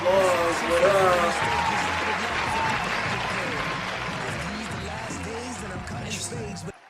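A canned applause sound effect plays as a steady wash of clapping that slowly fades toward the end, with someone talking over it throughout.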